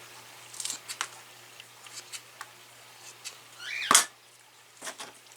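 Sharp, close snips cut dahlia stems and leaves below the node, scattered single clicks with one louder crisp cut near the middle.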